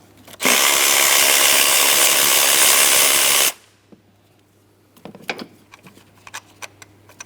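A power tool whirs steadily for about three seconds, removing the 10mm ignition coil bolt on a Cadillac CTS 3.6L V6, then stops, followed by light metallic clicks and handling sounds.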